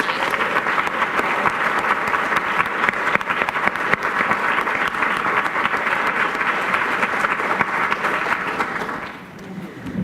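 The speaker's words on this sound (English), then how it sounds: "please join me in a round of applause for both mayoral candidates tonight" A large audience at a 2016 Christchurch mayoral debate claps steadily and loudly for about nine seconds, the dense applause then quickly fading out.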